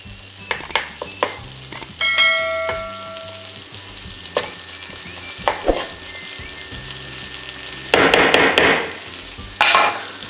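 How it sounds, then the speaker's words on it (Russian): Pieces of salted inner pork fat crackle and sizzle in hot oil, with sharp pops and scraping sounds over a steady frying hiss, close and loud, and no one speaking. "у нас маслица прогрелась. И мы туда наши волшебные кусочки сальца"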